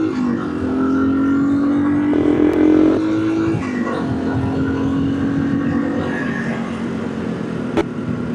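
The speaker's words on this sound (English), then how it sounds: "Couple bikes coming." Motorcycles on the Tail of the Dragon mountain road, a loud, steady engine drone that shifts pitch as the bikes approach, running unbroken throughout.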